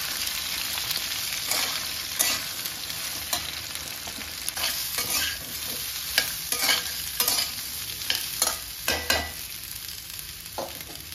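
Cut vegetables frying in a pan at home, a soft steady sizzle with irregular scraping and tapping as they are stirred, fairly close and moderately quiet, with no talking.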